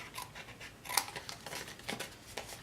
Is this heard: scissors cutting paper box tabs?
yes